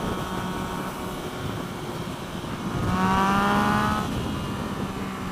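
A Yamaha FZ-09 motorcycle engine hums steadily at moderate volume, then its pitch rises for about a second as revs climb and falls back to a steady drone.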